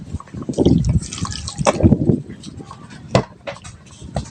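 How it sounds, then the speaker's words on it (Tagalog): Water pours and splashes into a pan of fish for homemade bagoong close by, with dribbling and dripping sounds, mixed with light clatter. "Lagyan natin ng kunting tubig."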